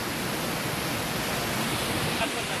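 Steady broadband rush of water pouring down at Dhuandhar Ghat on the Narmada, a dense, continuous roar filling the whole clip without pause.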